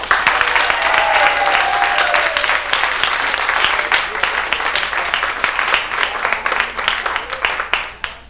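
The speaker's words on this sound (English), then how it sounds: "please give a warm round of applause for two guys from the 70s" Audience giving a warm round of applause to welcome two performers on stage, loud, sustained clapping from a sizable crowd that gradually thins out and fades over several seconds.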